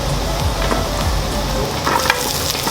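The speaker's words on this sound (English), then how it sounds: "Now we're adding the carrots and the onions." Carrots and onions fry in a hot pan for pancit, giving a close, steady sizzle with a few scraping stir sounds; no talking.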